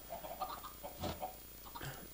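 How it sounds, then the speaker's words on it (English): Minecraft chickens cluck in soft, repeated, overlapping bursts at moderate distance, with a low steady background hum underneath. "Now the chickens will flap about"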